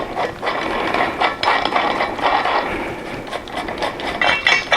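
A wheel bearing puller is tightened on a motorcycle front wheel, giving a steady run of close ratchet clicks and metallic rasping for the full length, loud and continuous with no talk.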